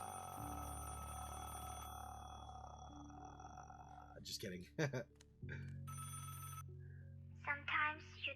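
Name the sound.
phone ringing in Never Again video game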